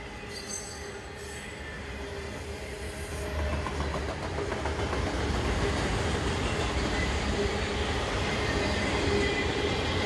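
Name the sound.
Conrail freight train M205 passing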